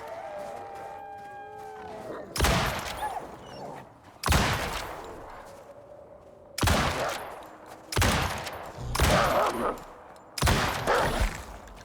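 Gunfire at a wolf pack in the survival video game Icarus, five or six loud, close blasts spaced a second or two apart, each trailing off into rumbling echo, with someone speaking faintly between shots.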